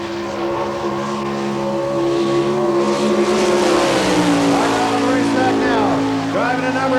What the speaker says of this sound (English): Neighbors Executive Coffee sponsored car out of Oklahoma City down the front straightaway